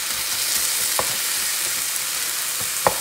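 Steak sizzles steadily on a flat griddle for a Philly cheese steak, with a few sharp metal spatula clanks chopping the meat over the constant frying hiss.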